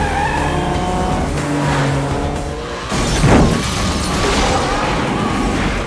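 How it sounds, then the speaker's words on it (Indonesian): Police cars speeding through a film car chase in Gone in 60 Seconds, engines revving hard with tire squeals and skids and a sharp crash-like burst midway, loud and close, a voice narrating faintly underneath. "para polisi yang berada dekat dengan mereka langsung menggaspol mobil. Terjadi aksi kejar-kejaran"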